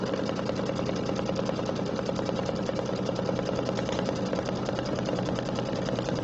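An embroidery machine stitches decorative elements on a table runner, a steady rapid mechanical chatter with even rhythm running continuously at close range.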